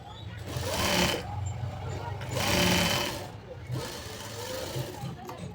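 A sewing machine stitches a designer kurti in three separate runs, a close buzzing whir that rises and falls with each burst, with quiet pauses between.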